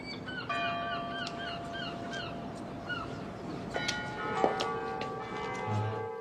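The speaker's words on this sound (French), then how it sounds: "Par avant d'est, on entend très bien sonner le glas." Church bell tolling a death knell in a French village, slow ringing strokes ringing out over a steady outdoor background with birds chirping and crows calling.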